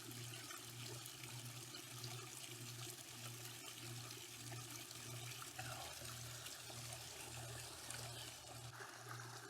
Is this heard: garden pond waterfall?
yes